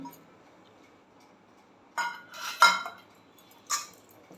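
Soaked poha goes into a wide vessel for thalipeeth, heard as a few soft clinks and scrapes of utensils against the pot after a quiet start.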